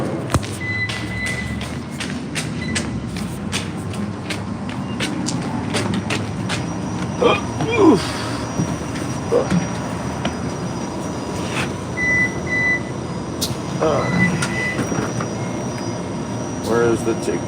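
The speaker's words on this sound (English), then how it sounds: "All right, here's the train." An RTA Green Line light-rail train pulls in with a low rumble, clanks and brief wheel squeals, heard from the platform while people talk nearby.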